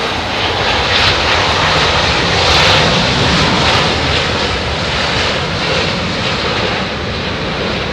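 An airliner landing at London Heathrow in low visibility, its engines roaring loud and steady throughout with a broad, sustained rumble and no voices.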